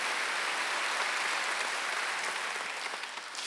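A church congregation at a Korean Sunday worship service claps together in a steady, dense wash of applause that fades slightly toward the end, with no speech over it.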